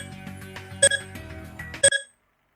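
A student response clicker's question timer ends with electronic alert tones, a soft ticking pattern punctuated by two bright double beeps about a second apart, then silence.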